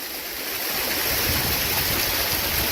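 Rain-swollen stream water pouring into a reservoir, a dense continuous rushing and gurgling that swells slightly louder partway through, close by with no talking.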